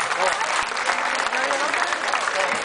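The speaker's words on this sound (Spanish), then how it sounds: "Y un aplauso para ellos, por favor, por el detallazo." Audience clapping at a recognition ceremony, a dense, steady burst of applause from a crowd that carries on for the whole stretch.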